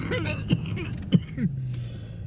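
A person clears their throat and gives a few short coughs, two or three close, abrupt bursts over a quiet, humming room.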